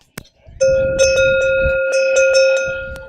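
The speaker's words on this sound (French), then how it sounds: "le redon, avec cette forme arrondie, qui a un son très agréable, un son assez grave, rond, qui porte assez loin aussi" A round, bulbous redon bell of the kind carried by lead animals in a herd rings several times in a steady swinging rhythm, each stroke giving a deep, rounded, sustained tone that carries, close and clear.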